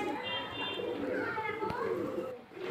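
Domestic pigeons coo in a loose, repeating murmur, with background voices and household noise in a home where the birds are kept.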